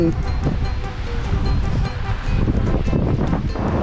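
Cool wind blows at the seaside in Rayong, Thailand, buffeting the microphone with loud, gusty rumble, while a voice talks underneath.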